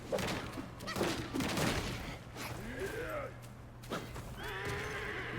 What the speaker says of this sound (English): once we got that noise cue, it kind of seems like he's a horse.